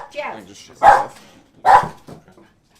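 A dog barks in three loud, separate bursts close by, with short pauses between them and light speech in the background.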